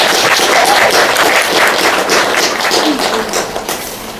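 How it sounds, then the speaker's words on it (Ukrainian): Applause fills a poetry reading as the audience welcomes the first reader, a young woman, with dense, steady clapping that stays loud and close throughout before easing slightly at the end. "зустрічайте оплесками нашого першого читача"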